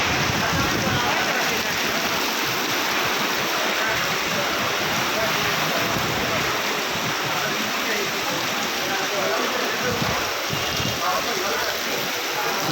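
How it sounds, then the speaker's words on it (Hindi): Heavy rain pours down in Hafizabad in a dense, constant hiss, loud and close, with no pauses from start to finish. "बहुत तेज़ बारिश है आज।"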